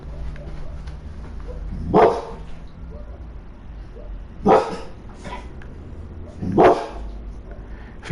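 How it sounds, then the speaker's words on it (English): A dog barks in the background in three separate short bursts spaced a couple of seconds apart, moderately distant, over a low indoor hum. "that's my dog"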